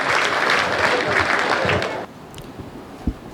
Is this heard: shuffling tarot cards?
no